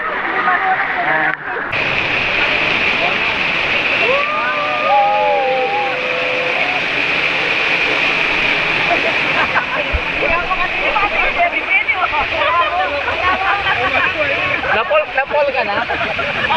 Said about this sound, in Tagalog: Nasa likod kami ngayon ng falls mismo.